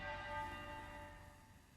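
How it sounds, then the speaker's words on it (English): A single church bell strike from London's Westminster Abbey, tolling once per minute after Prince Philip's death, rings out faintly and hums as it slowly decays. "The bells at London's Westminster Abbey rang once per minute, 99 times to honor Prince Philip"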